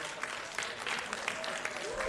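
An Indianapolis City Council meeting audience breaks into sustained applause and cheering, a dense, steady wash of clapping with scattered shouts throughout.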